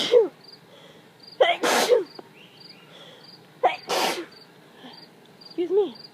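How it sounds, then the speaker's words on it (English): Two sharp, loud human sneezes about two seconds apart, each led in by a short breathy intake, in an otherwise quiet room. "I need to sneeze."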